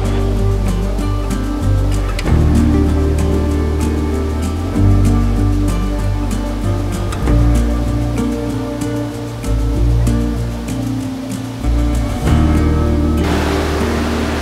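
A loud, continuous roar of rushing water at the base of a waterfall at Seven Falls, a dense broadband wash that fills the whole stretch with no voices over it.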